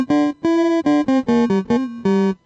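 An electric guitar runs through a homemade Arduino-built effect unit slowed down, giving a series of separate, buzzy, distorted notes with slight pitch bends, played in a short uneven rhythm about seven or eight times.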